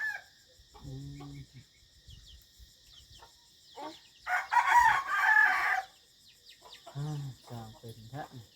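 Chickens cluck in short, close bursts while a rooster lets out a loud crow in the middle, with quiet insect chirping and a few faint sounds between calls outdoors.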